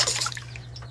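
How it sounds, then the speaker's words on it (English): Fresh mozzarella knots drop into a bowl of cold water with a brief splash and trickle, close and soft over a low steady hum. "And then we put them in the cold water."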